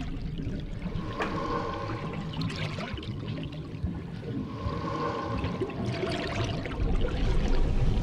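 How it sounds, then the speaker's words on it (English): Bubbling, watery soundscape effects in a song, a soft continuous gurgle with faint trickling swells, quiet and diffuse in the background. "It is kind of bubbling in the background and difficult to kind of make out."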